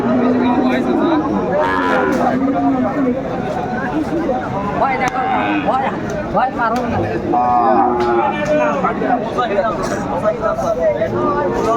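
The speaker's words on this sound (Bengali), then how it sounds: "বেশ সুন্দর একটি ষাঁড় দেখাশোনা চলছে" A Sahiwal bull at a busy cattle market moos loudly and repeatedly up close, over a steady hubbub of people talking and bargaining nearby.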